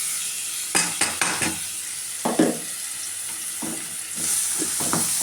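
Crushed small onions and onions fry for a dried-fish curry, a soft background sizzle broken by a handful of sharp spoon scrapes and clinks against the pan as they are stirred.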